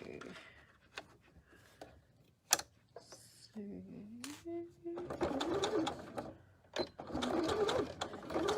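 A sewing machine stitches through a fabric book cover pinned along the top, with rickrack trim nearby, running in bursts of steady whirring punctuated by short pauses, clicks and handling noises.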